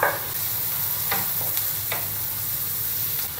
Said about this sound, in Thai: ใช้หอมหัวใหญ่นะคะ 2 ช้อนโต๊ะผัดให้หอมสุกเลยค่ะ